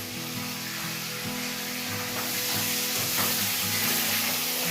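A raw fish head fries in hot oil for mung dal, giving a steady close sizzle and crackle with a low hum beneath and no speech.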